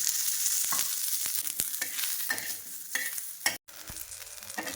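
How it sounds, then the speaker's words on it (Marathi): Onions sizzle and crackle in hot oil while a utensil stirs and scrapes the pan with several sharp clicks. "कांदा पण आपल्याला तेल टाकून भाजायचा आहे"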